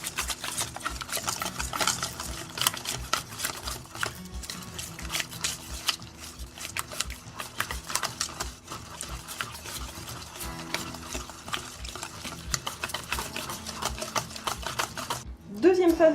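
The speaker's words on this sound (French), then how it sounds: "On fouette vigoureusement jusqu'à ce que les liquides se mélangent bien." Liquids for a chocolate pumpkin cake being whisked vigorously in a bowl, a rapid continuous clatter of quick rhythmic taps, close and fairly quiet, with a brief voice near the end.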